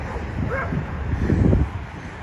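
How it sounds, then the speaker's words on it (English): A few dogs bark and yip outdoors on a Manhattan street, short scattered barks at moderate distance over steady wind and city noise. "everyone's walking their dogs out right now"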